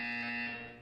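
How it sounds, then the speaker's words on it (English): A single loud, steady electronic buzzer from the video game Portal 2 sounds, a harsh tonal drone that holds for under a second before starting to fade. "When you hear the buzzer, look up at the ceiling."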